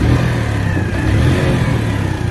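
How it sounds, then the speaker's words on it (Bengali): Bajaj CT 100 kick-start motorcycle engine running just after starting, a loud, close, steady mid-pitched revving drone with a pulsing rhythm and no talk. "গাড়িটি স্টার্টে আছে।"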